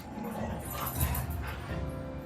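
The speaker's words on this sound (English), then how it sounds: "My dogs are going bonkers in the background" Several dogs bark and yip excitedly somewhere off in another room, a steady muffled racket of overlapping woofs and whimpers running beneath a low indoor hum throughout.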